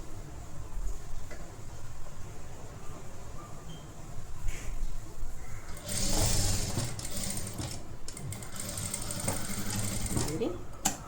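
A sewing machine stitches a shawl-collar blouse, its mechanical whirr rising and running steadily in the second half, with a quieter stretch of faint handling and ticking before it.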